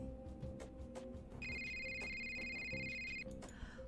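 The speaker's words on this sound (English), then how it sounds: "Takyong is woken by the sound of a phone ring" A telephone rings at home at 2 a.m., one steady electronic trill lasting about two seconds, clear over a low background hum and music.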